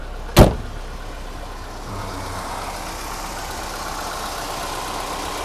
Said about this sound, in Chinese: 怠速是很稳定的